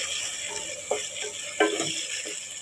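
Ingredients frying in a pan, a steady close hiss with occasional louder crackles and stirring clatters, no talking.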